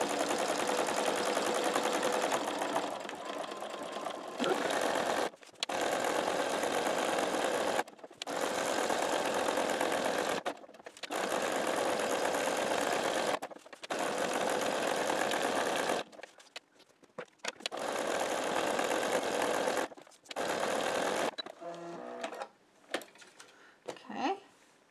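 A sewing machine stitches chenille fabric in loud, sustained whirring bursts of several seconds each, separated by short silent pauses, with brief ticking handling sounds near the end.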